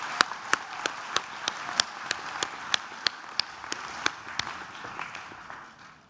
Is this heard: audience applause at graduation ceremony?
yes